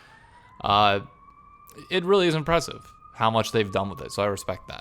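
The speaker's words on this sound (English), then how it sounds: "apologies for the sirens in the background." A police siren wails steadily in the background on a New York City street while a person talks over it close to the mic.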